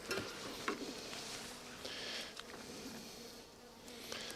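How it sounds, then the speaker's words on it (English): Defensive honey bees swarm around an opened hive during frame inspection, making a dense, steady buzzing drone close to the listener at low volume. "I got a bunch of bees coming at me"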